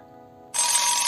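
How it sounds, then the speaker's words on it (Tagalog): An alarm clock suddenly starts ringing, a loud, bright, continuous electronic bell that cuts in midway and keeps going with no voices. "ang pagtunog ng alarm clock"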